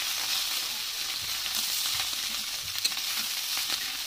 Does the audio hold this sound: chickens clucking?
no